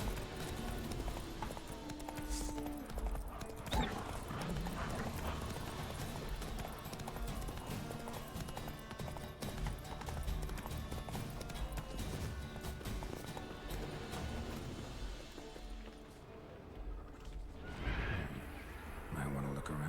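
Horse hooves clip-clopping and repeated neighs and whinnies from the video game Witcher 3, set against a dense, continuous game soundtrack with music and effects, with a voice speaking at times.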